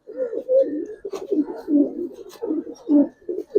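Red patti pigeons coo loudly and close by, a string of rolling, pulsing calls repeating in uneven bursts over a few seconds with short gaps between them.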